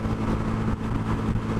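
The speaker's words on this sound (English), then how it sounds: "Out on the highway, a little bit of a grade here, and I feel like the engine's struggling a little bit." A Honda Grom motorcycle engine strains up a highway grade. The loud, steady drone holds a constant pitch under heavy wind rush, with no talking.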